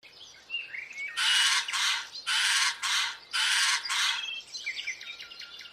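A cartoon character imitates a bird's voice, giving three loud bursts of bright chirping calls, each a pair of quick twittering phrases, framed by fainter tweets before and after.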